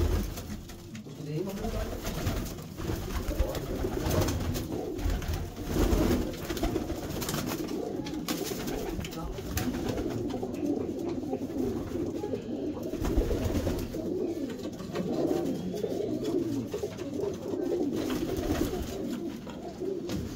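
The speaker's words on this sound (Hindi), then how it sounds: "दोस्तों भाई कितने कबूतर है जो उड़ रहे हैं?" A flock of about 80 racing pigeons cooing steadily and fairly close as they are released, a soft continuous murmur of calls over a busy outdoor background.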